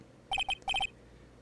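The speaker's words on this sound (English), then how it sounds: "You pressed redial on that there phone, didn't you?" A phone redial ring in the video game Phoenix Wright: Ace Attorney plays as two quick bursts of three bright electronic tones, clean and fairly quiet.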